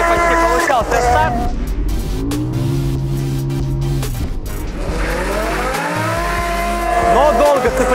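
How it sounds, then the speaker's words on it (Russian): A BMW M5 E60 and a Toyota MR2 launching side by side in a drag race, engines revving hard with a rising pitch and tire squeal, loud and close, with people talking over it. "М5 против МР2. Одновременный почти получался старт."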